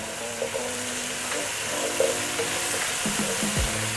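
Spices, curry powder and curry paste sizzle and fry in a pot over high heat while being stirred often, a steady close crackle with scraping strokes of the spoon and no talk.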